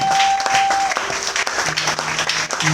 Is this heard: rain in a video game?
no